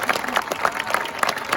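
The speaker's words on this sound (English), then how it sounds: "So a round of applause for those retiring." A school ceremony crowd applauds two retiring teachers, a dense, continuous patter of many hands clapping at moderate distance for a short burst.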